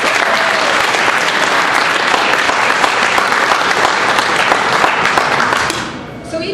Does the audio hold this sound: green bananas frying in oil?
no